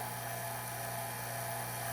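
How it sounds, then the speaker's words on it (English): Refrigeration vacuum pump running steadily during a Viking beverage center evaporator repair, a continuous faint motor hum with constant tonal whine and no change in level. "the vacuum has been running for the past half an hour"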